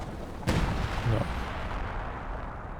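Artillery fire in the World War II strategy game Company of Heroes 2: a single heavy boom, quickly followed by a second, rolls out over a constant battlefield rumble.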